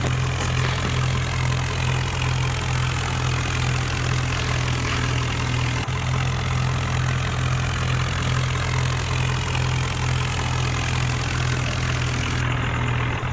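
A simulated Swaraj 744 tractor engine labours under heavy load in third gear while hauling a loaded trolley in a driving game, producing a steady, loud low drone with a constant hum throughout and no talk.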